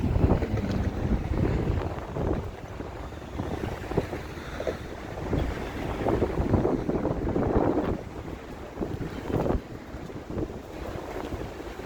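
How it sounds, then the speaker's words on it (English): Wind rises on a downtown Toronto street in January, rushing and buffeting loudly against the microphone in uneven gusts for the whole stretch, with no talking. "Wind is starting to kick up."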